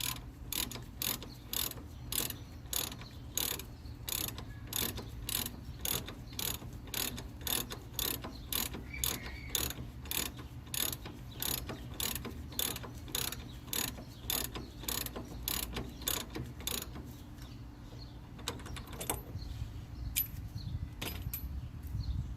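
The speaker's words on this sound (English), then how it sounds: "So I'm going to separate this joint here from the pitman arm." Rhythmic metallic ratcheting as a tie rod end is worked loose from the pitman arm on a Ford E250 van, steady close clicks repeating for about twenty seconds with a faint low hum underneath and no talk.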